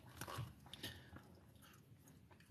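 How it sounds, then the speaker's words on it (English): Soft, close chewing of food, with a few irregular bites and crunches at low volume. "I'll chew softer."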